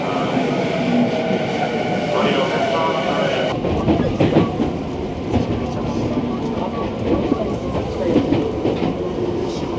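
A Tokyo commuter train runs from Shibuya toward Yutenji station at night, with a loud, steady rumble and clickety-clack of wheels, heard from inside the car, the noise shifting and growing rougher partway through.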